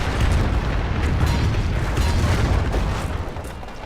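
Mortar fire in the Company of Heroes video game, a dense rumbling barrage of booming blasts rolling continuously and loud, fading slightly toward the end.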